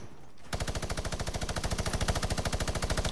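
Another player fires in a video game, producing a fast, perfectly regular automatic stream of shots that starts abruptly after a brief quiet moment and holds steady and loud to the end.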